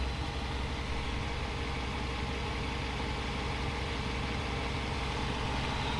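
A Mercedes M119 V8 idles in a steady, even low rumble with a dense mechanical hum, unchanging and moderately close, with no voices.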